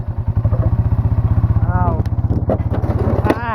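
A 140cc riding lawnmower engine runs in low gear with a fast, loud, regular chugging thump close by, and a voice speaks briefly over it.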